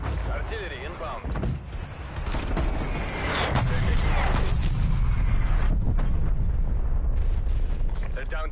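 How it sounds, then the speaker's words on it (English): Artillery fire in a Cold War video game, heavy booming blasts and a rolling fusillade that build into a loud continuous barrage, with voices talking over the din. "Artillery inbound."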